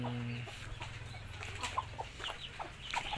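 Chickens clucking in a rural home garden where Muscovy ducks also roam, several short clucks coming in irregular bursts at moderate distance over a low steady background hum, with no talking.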